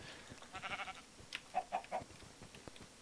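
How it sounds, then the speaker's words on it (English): Sheep in the Minecraft video game bleat in a few short wavering calls near a skeleton, over faint clicky game background noise. "there's another sheep here behind a skeleton"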